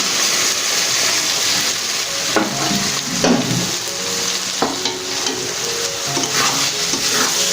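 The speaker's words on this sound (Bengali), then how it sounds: "এবার এই ডালগুলো এতে দিয়ে দিলাম" Cooked dal poured into a hot pan with eggs and stirred for Punjabi-style egg tadka, giving a steady close sizzle broken by a few wet splashes and spoon scrapes, no voices.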